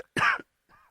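A single sharp, close cough is followed by a fainter, shorter vocal sound.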